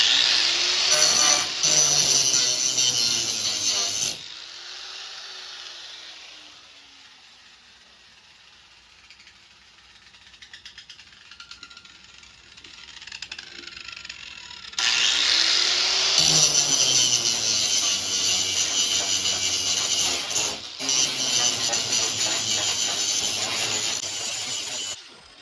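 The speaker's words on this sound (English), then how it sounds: "I don't think this grinder is going to do what I want it to do as effectively as a flap wheel will" An angle grinder works the steel body of a 1946 Jeep CJ2A, running loud and harsh in two long bursts at the start and end, with a quieter stretch of faint scraping and handling between them.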